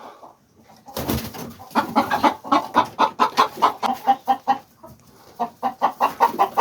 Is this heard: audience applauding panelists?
no